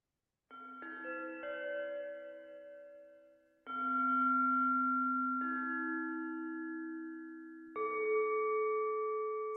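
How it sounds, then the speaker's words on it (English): Glockenspiel from a free software instrument plugin plays sustained, bell-like notes in slow succession, soft and heavily reverberant with long ringing tails and gentle attacks. "So yeah, there's this Glockenspiel also."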